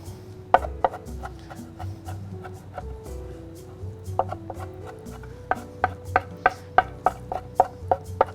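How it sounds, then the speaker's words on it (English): Knife mincing onion on a wooden cutting board while making corn and wild rice spoon bread, a close series of sharp chops that speed into a quick, steady rhythm toward the end, over a low background hum. "I'm just going to come back through and mince it up"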